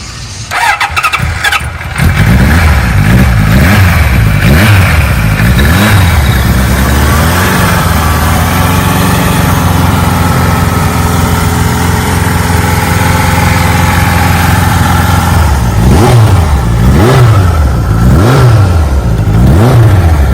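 A 1975 Kawasaki Z1 900 motorcycle engine cranks briefly, catches and roars to life, then idles loudly with repeated throttle blips rising and falling, close and strong throughout.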